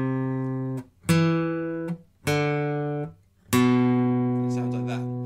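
Acoustic guitar picks out the second phrase of a song riff, a few plucked notes with harmonic-rich attacks ringing and decaying in a slow, steady rhythm, close and clear with no talking.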